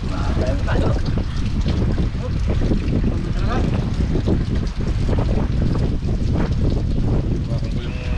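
Strong wind blows outdoors on a boat during a fishing trip, a loud, continuous buffeting roar against the microphone with constant rumble and splashy noise, and a voice is heard beneath it throughout.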